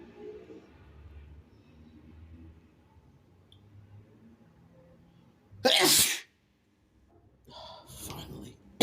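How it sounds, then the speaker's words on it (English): Two sneezes from a shirtless man, the first a loud, sharp burst near the end of low mumbling and breathing, followed after a short pause by a second, noisier sneeze, both close and wet. "I have to sneeze."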